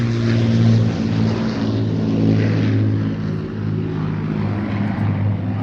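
An Avro Lancaster of the Battle of Britain Memorial Flight drones overhead at an airshow, a steady, loud multi-engine propeller hum with deep throbbing tones that holds throughout without a break.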